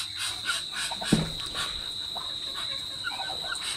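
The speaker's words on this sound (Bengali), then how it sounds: "দেখতে পাচ্ছেন হাঁসগুলো মুরগিগুলো সব খাবারের জন্য পাগলে" A crowd of ducks and chickens clamours for food nearby, with overlapping quacks, clucks and squawks forming a busy, continuous racket.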